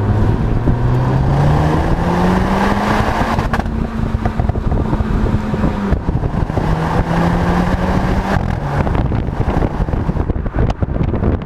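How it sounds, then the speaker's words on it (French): Renault Clio 4 RS Trophy 220 with a reworked exhaust, accelerating hard while on the move, its engine note rising in pitch, easing off and climbing again, all under steady loud wind noise. "dès qu'on accélère, il y a un petit bruit à l'échappement"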